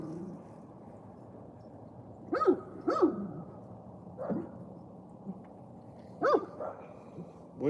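A dog barks in short bursts outdoors beside a fishing spot, a few loud close barks and yips separated by quiet pauses, with no talk over it.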